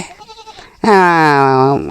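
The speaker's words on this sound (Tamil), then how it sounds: "ஆடு ஆட்டுக்குட்டி இருக்குது மாடு இருக்குது" A goat on a farm with lambs and cattle lets out one loud, close, wavering bleat lasting about a second, following a short stretch of faint background voice.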